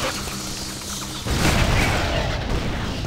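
A cannon fires in the video game Torchlight II, a deep boom rising out of a steady wash of game noise and then rumbling on.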